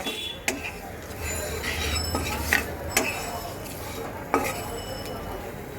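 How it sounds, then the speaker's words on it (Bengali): Spice paste is stirred slowly over low heat in a pan for a katla fish curry. Intermittent sharp scrapes and metallic clinks of the spatula sound over a faint, steady sizzle. "এবার জালটাকে খুব লো টেম্পারেচার রেখে আস্তে আস্তে খুব সুন্দর করে এটাকে কষাতে হবে"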